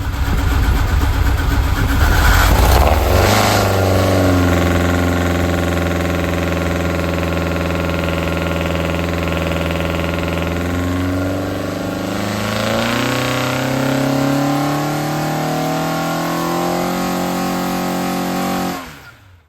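A Ford Pinto engine from a Group 1 Ford Escort, fitted with open-intake carburettors and a 150 main jet, starts with a clatter on a dyno, then revs up and holds, rising and falling loudly before shutting off.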